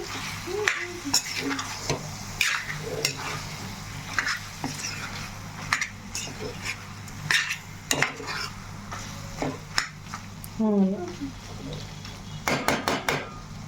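Tomato pieces frying in a pan as they are stirred, a low sizzle broken by sharp spoon clacks and scrapes against the metal, the strokes coming in irregular bursts up close.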